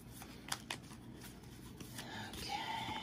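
Tarot cards shuffled quietly by hand, soft papery riffles and slides with a few light taps, close and gentle, under a faint background hiss.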